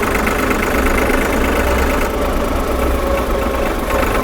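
A 4x4 tractor's diesel engine idles at the snowy Pensi La summit, a loud, continuous low rumble with steady knocking texture close by, no talk.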